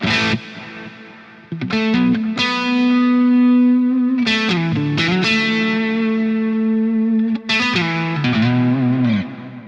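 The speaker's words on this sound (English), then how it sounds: "the reverb is actually very, very good. Like the decay is very natural." Distorted metal electric guitar through a Jeff Loomis Devil's Triad drive pedal with its reverb engaged, playing loud sustained chords and notes that ring out with smooth, natural-sounding decay between phrases, no talking.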